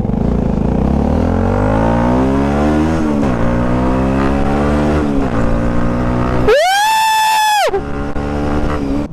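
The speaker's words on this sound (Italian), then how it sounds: "oggi sono sulla moto di Pazzo." A Yamaha YZF-R125 motorcycle engine revs up repeatedly, its pitch climbing and dropping in steady waves, loud and close, with a brief high whine near the end.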